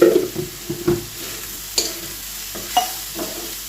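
Pavta beans dry-roast in a pan with chilli chutney, making soft scraping and occasional stirring knocks over a faint low sizzle, sparse and close, with no voices.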